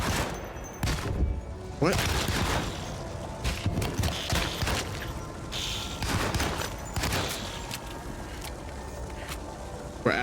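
A Thompson submachine gun fires in the Alone in the Dark video game in several sharp, loud bursts and single shots spread across the scene, and a voice briefly speaks between them.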